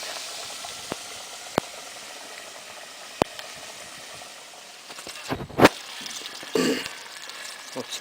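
Meat seasoned with rosemary fries in a pot with a steady, quiet sizzle, broken by a few sharp pops and louder spattering bursts toward the end.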